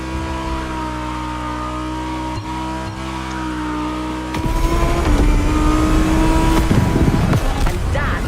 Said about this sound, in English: A glimpse of the Lamborghini Egoista.